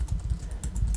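Quick, close keystrokes clatter on a Mac keyboard in a rapid, uneven run lasting about a second.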